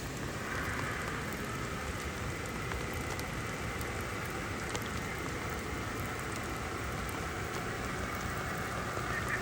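Continuous soft patter of rain falling outdoors during an RC car adventure, a faint, even hiss with scattered drop ticks and no voices throughout.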